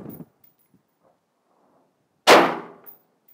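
A 5.56 M193 rifle round strikes an Angel Armor SNAP 308C armor plate during live fire: one sharp, loud metallic crack with a brief ringing decay, after a faint thump and near silence.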